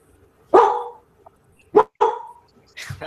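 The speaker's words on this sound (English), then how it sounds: "That dog." A dog barks during an online group hangout, giving three or four loud, close barks with short gaps between them, the last one sharper, over a quiet room.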